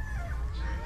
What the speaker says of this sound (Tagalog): Ano to, boss? Boston Roundhead ng Iskulin